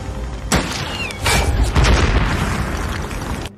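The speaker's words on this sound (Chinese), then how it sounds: "大卫果断开枪引爆炸弹，" In a Russian war film, a rifle shot detonates a bomb: sharp cracks give way to a loud, rumbling blast that rolls on and fades slowly over heavy low-end debris noise.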